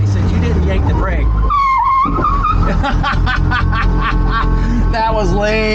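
A classic Mini Cooper fitted with a Honda VTEC engine revs loudly with rising and falling pitch and some tire chirp. Excited voices talk and shout over the engine throughout.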